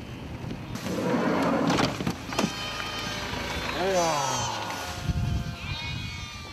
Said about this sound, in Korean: 얼핏 보아도 수백 마리에 달하는 저 염소떼들은 대체 어디에서 왔을까?